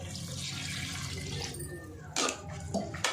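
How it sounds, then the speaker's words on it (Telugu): Water is poured into a biryani pot, giving a soft running, splashing pour that drops off, followed by a couple of brief louder sloshes near the end. "వాటర్ అయితే పోసుకున్నా"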